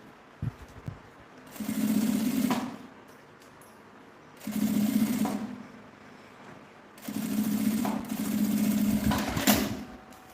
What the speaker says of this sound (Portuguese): Então, aqui, ó, eu vou puxando o forro e costurando.